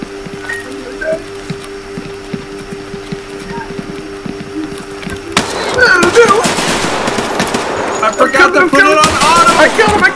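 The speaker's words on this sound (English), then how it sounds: "There's lots of gunshots." Rapid bursts of gunfire in Escape From Tarkov erupt after a quiet stretch with a steady hum, continuing loud and dense with crackling shots to the end.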